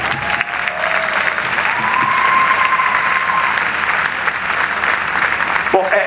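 A theatre audience applauds after a magician's handkerchief vanishing trick, steady loud clapping throughout, with a thin sustained tone running beneath it for a few seconds.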